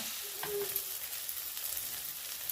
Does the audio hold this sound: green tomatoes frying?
yes